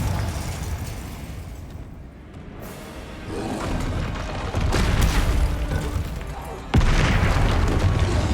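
A fire-blast spell called Confringo detonates in the Hogwarts Legacy video game during a dragon-fighting ring battle, with booming bursts and roaring blasts over loud game noise, and a voice talking at the same time.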